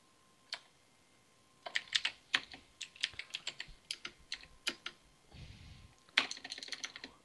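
Keystrokes on a computer keyboard, a lone tap followed by a quick irregular burst of clicking that pauses briefly and then resumes, close and fairly quiet with no voices.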